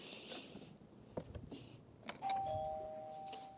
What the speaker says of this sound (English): I'm going to unlock my door and I'm going to ring the doorbell